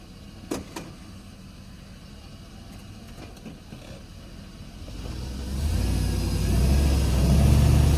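A Toyota Tacoma engine runs and then revs harder as the wheels spin, the roar swelling louder and rougher toward the end after a couple of brief knocks near the start.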